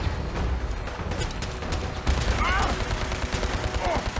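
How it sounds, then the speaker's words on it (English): Automatic super pistol gunfire in Fallout 4, a sustained rapid burst of loud shots rattling continuously through the clip, with a voice speaking faintly under the firing. "I'm gonna use my automatic super pistol or whatever the fuck it's called."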